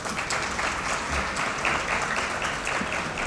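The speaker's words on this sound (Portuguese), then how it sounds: "Vamos aplaudi-la." Audience applause at a sustainability conference panel, a steady wash of clapping from a seated crowd, moderately loud and even throughout with no voices over it.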